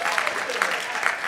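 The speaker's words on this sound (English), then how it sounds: "Give her a big round of applause." A brief burst of audience clapping at a comedy hypnosis show in a high school, with a voice speaking over it.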